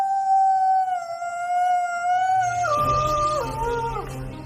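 A toy wolf plays a recorded howl: a long, rising-then-steady tonal wail with clear harmonics that bends down in pitch near the end as a low rumble and clatter of handling come in.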